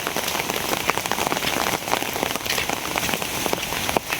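Heavy rain pours onto a village road during a downpour, a dense, loud, continuous hiss with scattered drop impacts, steady throughout with no voices.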